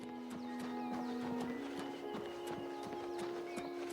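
Horse hooves clip-clop at a steady walking rhythm in Oblivion Remastered, regular evenly spaced thuds over a constant tonal game ambience, moderately close with no talk.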